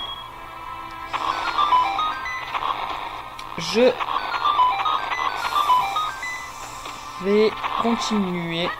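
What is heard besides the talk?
mobile phone notification sound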